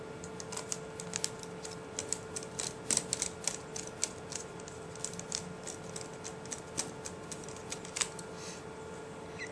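Four small screws being driven back into a Dell Latitude 2100 netbook, heard as faint, close, rapid ticking and clicking in a quiet room with a steady low hum underneath.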